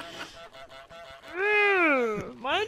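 A cartoonish goose in Untitled Goose Game gives a loud, drawn-out honk with a rising then falling pitch. A shorter honk starts right after it, and softer chatter and game noises come before.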